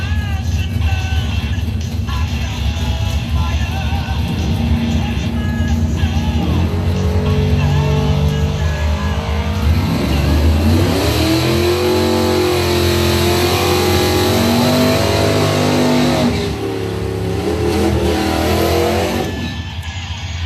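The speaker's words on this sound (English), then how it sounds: "Is in the 66 Mustang in the Higas Performance Lane." A 1966 Ford Mustang race car on a time-trial run, loud and close, its engine revving and rising in pitch through gear changes, then backing off near the end.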